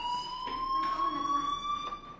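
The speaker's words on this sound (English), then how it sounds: "do you hear that fire alarm?" Fire alarm in the video game Life is Strange, a steady high electronic tone with harmonics sounding continuously and moderately loud against faint background ambience, no voices.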